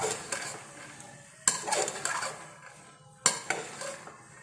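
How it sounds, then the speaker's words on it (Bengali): Chickpea masala with turmeric and salt stirred in a pan, a spoon scraping and clinking against the metal in bursts over a soft sizzle, close and fairly quiet. "আমি ভালো করে কষাবো"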